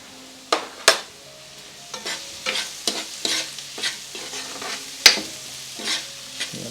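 Beans for an omelette are mixed in a pan with salt: sharp irregular spoon knocks and scrapes against the pan over a soft background sizzle, close and fairly loud, no voices.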